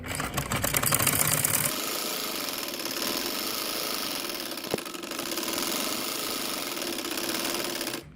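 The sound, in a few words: sewing machine stitching the edge of a sleeve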